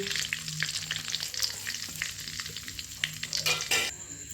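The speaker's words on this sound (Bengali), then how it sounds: "ওই তেলের মধ্যে ফোড়নের জন্যে আমি 3টে তেজপাতা আর গোটা গরম মশলা" Bay leaves and whole garam masala of cumin, cardamom, cinnamon and cloves crackling in hot oil as a tempering, a close steady sizzle with sharp pops and a few louder spits near the end.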